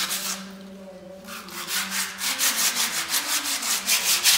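Rhythmic scraping of wet 120-grit sandpaper rubbed back and forth on stone, strokes speeding into a steady quick beat after a short pause.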